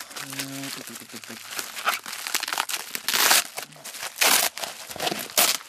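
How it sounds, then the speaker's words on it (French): Crinkling, crackling sticky bubble wrap being pulled and peeled apart up close from a Nexus 4 phone package, in bursts, with a person speaking intermittently over it. "plutôt bien emballé, une espèce d'énorme papier bulle collant"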